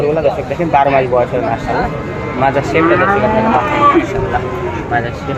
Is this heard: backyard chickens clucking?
no